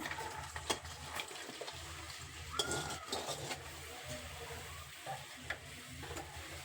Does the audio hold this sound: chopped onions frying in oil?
yes